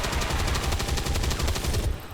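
A gunner soldier's automatic weapon in the strategy game XCOM 2 with the Long War 2 mod unleashes a loud, rapid burst of gunfire that hammers steadily for about two seconds, then cuts off abruptly.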